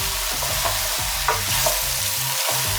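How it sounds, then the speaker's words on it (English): Sausages fry in simmering oil in a pan turned down to low heat, giving a steady close sizzle and crackle with light stirring scrapes throughout. "just let the oil simmer at the bottom"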